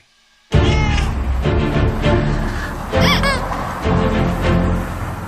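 A stray street cat meows in several drawn-out, wavering cries, close and loud over busy outdoor background noise and movement.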